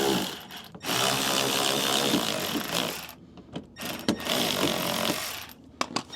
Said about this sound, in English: Got it here on my little electric wrench.